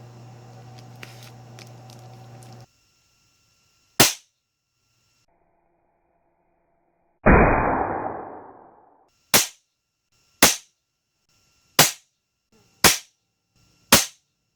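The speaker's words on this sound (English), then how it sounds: "I'm just going to go ahead and shoot one more group freehand with this" An Ataman AP16 air pistol is fired freehand: sharp, close cracks come one at a time, about a second apart near the end, with a longer ringing metallic burst partway through and a low hum at the start.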